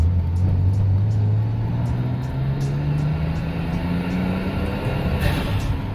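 A restored Nissan Skyline R33 with an RB25 engine accelerates at full throttle, its engine note climbing steadily in pitch over six seconds, loud and close from inside the car, with no voices.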